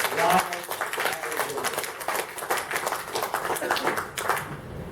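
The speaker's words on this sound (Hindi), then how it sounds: "तालियां बजाओ।" An audience claps at a corporate training session, a dense, steady patter of many hands lasting the whole stretch, with voices mixed in.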